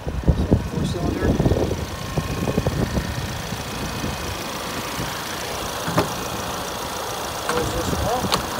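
A 2022 Ford Bronco Black Diamond Edition with a 2.3-liter four-cylinder engine idles steadily at a dealership, a low mechanical rumble with some clanks and knocks near the start and one sharp tick midway.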